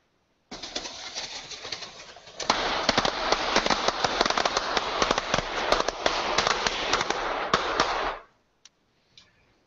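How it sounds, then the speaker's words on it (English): Dense rapid crackle of firecrackers exploding inside model towers, a loud continuous barrage of sharp pops lasting several seconds before cutting off, followed by a few faint scattered snaps. "I put some firecrackers in some towers, set them up, and this is what happened."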